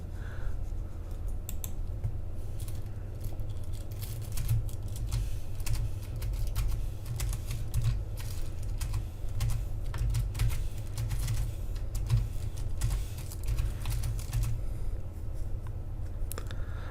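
Steady computer keyboard typing: dense, rapid key clicks that run evenly from start to finish at close range, with no voice over them.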